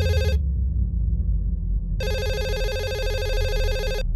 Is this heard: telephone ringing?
yes